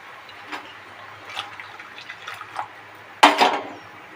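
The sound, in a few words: water poured into boiled masoor dal in a pot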